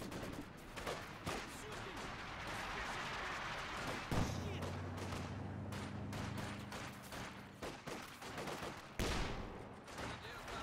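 Dense machine gun and rifle fire in a competitive multiplayer war video game, near-constant crackling bursts with a low rumbling explosion partway through, all mixed under a continuous game soundscape.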